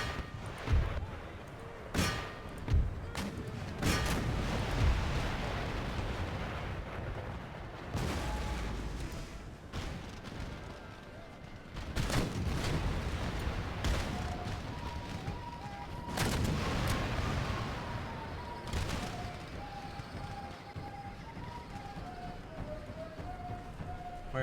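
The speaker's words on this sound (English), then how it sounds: "we are going to redirect cannon fire so we do not shoot against their artillery at the moment" Cannon and artillery fire rolls across an Empire: Total War battlefield, with repeated heavy booms and volleys firing irregularly over a steady din, plus faint tonal game music in the background.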